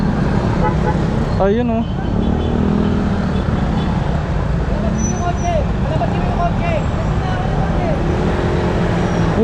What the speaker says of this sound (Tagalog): Kaya pala sobrang traffic dito oh